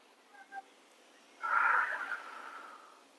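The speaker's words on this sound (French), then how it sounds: "tu peux expirer par la bouche si tu veux vraiment bien sortir tout l'air" A slow, breathy exhale through the mouth during a relaxation breathing exercise, preceded by a couple of faint small sounds, then a steady airy release that swells and gradually fades over about two seconds, close and alone.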